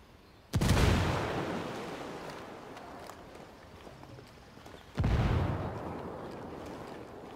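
In the Ghost Recon Wildlands video game, two loud deep blasts about four seconds apart, each a sudden boom with a long decaying rumble, like grenade explosions and heavy fire.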